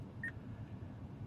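A single short electronic beep from the voice command system of an Acura MDX A-Spec SH-AWD sounds clearly over a low, quiet cabin hum, with no talking.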